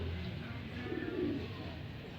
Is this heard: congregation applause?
no